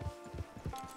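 Horse hooves clip-clop in a steady walking rhythm in Red Dead Online, four soft evenly spaced thuds close by over faint background game sound.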